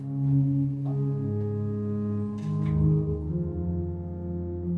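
Deep, sustained pipe organ pedal notes with 16-foot registration hold steady and then shift pitch, with rich low harmonics and no voices.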